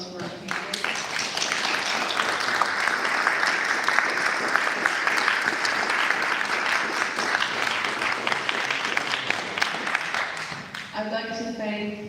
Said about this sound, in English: I'd like a round of applause for our candidates.